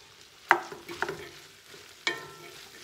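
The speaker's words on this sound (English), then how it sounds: "We're gonna saute and soften the onions just a little bit before we add the broth." Onions sauté and soften in a pot for a copycat Zuppa Toscana soup, with a gentle sizzle under a few distinct stirring scrapes and clacks of a utensil.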